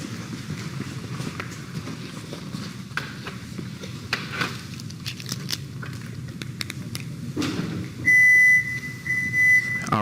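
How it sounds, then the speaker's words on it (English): A 2022 Ford F-150 Lightning XLT's front trunk is closed, followed by a steady electronic beep tone that repeats twice over faint shuffling and background noise. "you hear that beeping, I'm closing up the front area there"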